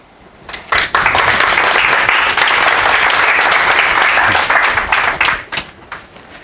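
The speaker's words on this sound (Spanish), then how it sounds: "y para el que pido por favor un fuerte aplauso" An audience at a science talk breaks into loud, dense applause that rises quickly, holds steady for several seconds, then tapers off.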